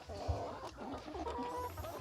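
Live chickens in a crate during a backyard poultry delivery give short, close clucks and a few throaty calls over about two seconds of handling noise.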